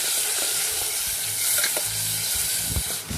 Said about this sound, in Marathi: टमाटरला मस्त छानपैकी शिजू द्यायचे तेलामध्ये